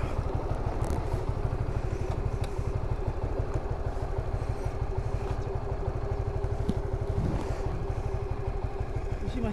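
A new Honda Supra GTR 150 motorcycle idling close by, a steady rapid putter with a light mechanical clatter running evenly throughout.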